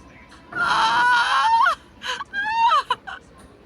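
A woman cries out in anguished, wavering wails, a long loud cry followed by shorter broken moans, close and intense.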